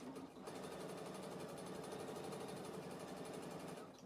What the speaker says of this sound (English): it's doing a back stitch without me making it